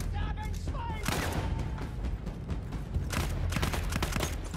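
Gunfire in the game Battlefield 1, a dense stream of shots and bursts over loud, steady battle noise, with a voice heard in the mix.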